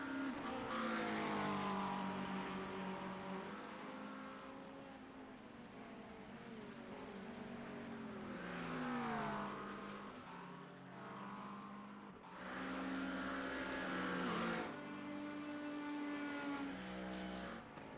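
Race cars circle a track at a night Speedweek event, engines rising and falling in revving, whining waves as cars pass near and then fade, loud and continuous with no voices over them.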